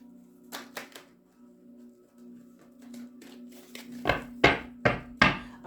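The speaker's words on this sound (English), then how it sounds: "One more shuffle for Cancer." Soft riffling and slapping of tarot cards being shuffled, quiet at first, then several sharp card taps and flicks near the end against a low hum.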